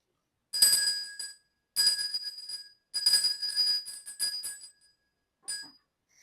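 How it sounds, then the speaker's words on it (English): A bright bell rings four separate times, each clear metallic tone hanging briefly before fading, with short silences between strikes. "I'm going to ring a bell, so just beware."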